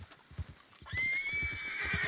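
A horse in a video game whinnies loudly, a long rising then wavering neigh, after a few soft clip-clop hoofbeats.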